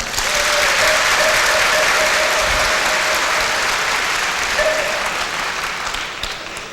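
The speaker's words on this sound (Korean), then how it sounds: "여러분 뜨거운 감사의 박수 부탁드리겠습니다." A crowd applauds at a Buddhist precepts ceremony held at an army training centre, dense, sustained clapping that swells in the first second, holds loud and steady, then tapers off slightly near the end.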